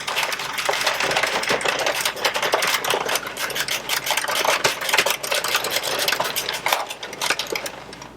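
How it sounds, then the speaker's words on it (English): Addi circular knitting machine cranked around by hand, a fast continuous rattling clatter of needles and gears that keeps a steady rhythm at close range for the whole stretch, with no talking. "just crank all the way around until your project falls off of the Addi machine"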